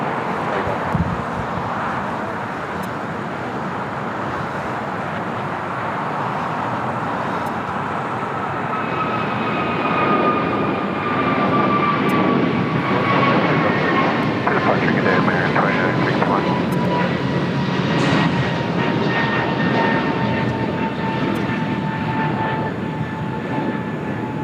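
An American Airlines Airbus A321neo takes off at LAX, a long jet roar with a rising then falling engine whine, swelling as it passes and slowly fading.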